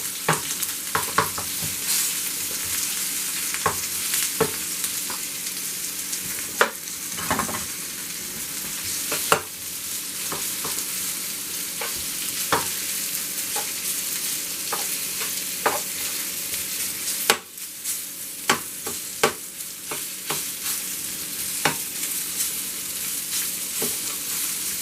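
Chicken pieces frying in a pan for sweet and sour chicken, a loud, steady sizzle broken by the clatter of stirring and breaking the meat apart.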